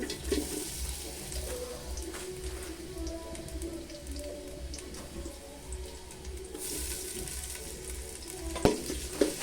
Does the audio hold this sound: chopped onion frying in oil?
yes